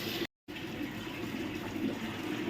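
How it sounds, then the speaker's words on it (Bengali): Water poured from a small rinsed spice bowl while cooking a pomfret fry, a steady close splashing trickle lasting a couple of seconds after a brief pause. "হাতটা ধুয়ে মশলার বাটিটা ধুয়ে অল্প জল দিয়ে দিলাম।"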